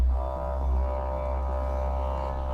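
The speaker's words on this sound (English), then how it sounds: "that noise you can hear is my paint mixer" A steady mechanical whir with a deep low hum drones on without pause from a paint mixer running close by.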